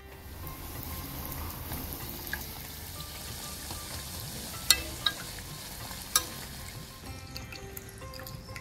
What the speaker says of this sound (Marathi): आता आपण अशाच पद्धतीनं सगळे तळून घेऊया